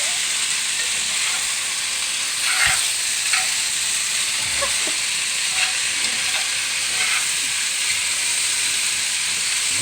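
Food sautéing in extra virgin olive oil gives a steady hissing sizzle with occasional soft stirring knocks and scrapes, fairly close, with no talk.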